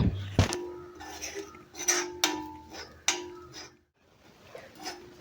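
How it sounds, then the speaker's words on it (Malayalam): A utensil stirs turmeric powder and spices in a pan for a dried fish theeyal, giving a few close, distinct metallic clinks and scrapes spaced over a few seconds, with quiet pauses between and a faint steady hum underneath. "ഇനി ഇതിലേക്ക് മഞ്ഞൾപ്പൊടി ചേർത്ത് കൊടുക്കുന്നു അതും കൂടി ഒന്ന് ഇളക്കി കൊടുക്കുക"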